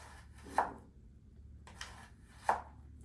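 During a knife skills class, a slightly dull knife cuts food with a slicing, spiralling stroke, making two crisp, close cuts about two seconds apart against a quiet room.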